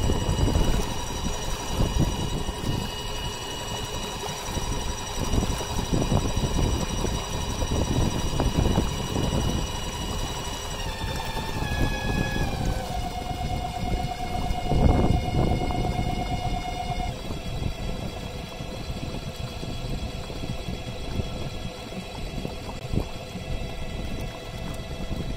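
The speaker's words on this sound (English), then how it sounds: "that's the performance of the Torqueedo outboard motor on a little 10-foot rubber dinghy" Steady electric whine of a Torqueedo 1003 electric outboard motor pushing a 10-foot rubber dinghy, a continuous tonal hum that drops in pitch midway, over constant water and wind noise.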